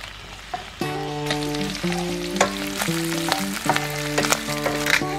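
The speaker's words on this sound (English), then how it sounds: "Back in the pan, back on, and what I'm going to do is I'm going to add this big chunk of butter." A big chunk of butter sizzles in a hot pan, a constant crackling fry heard alongside clear tonal beeps or musical notes and a few scattered clicks, close and moderately loud.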